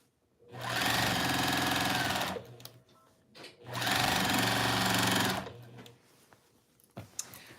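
A sewing machine runs in two rapid, steady bursts of stitching, each about two seconds long, close and loud, separated by a short pause and small handling clicks.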